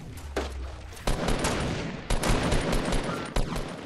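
Rapid gunfire bursts in the video game Fortnite, loud sharp volleys around the one-, two- and three-and-a-half-second marks over a dense, continuous noisy game background.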